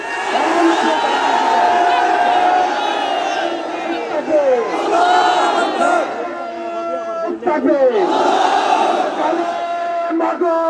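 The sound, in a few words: crowd chanting Nara-e-Takbir battle cry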